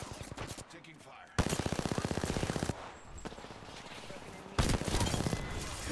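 Automatic gunfire in an Apex Legends match, several loud rapid bursts separated by brief pauses, with game sounds in between.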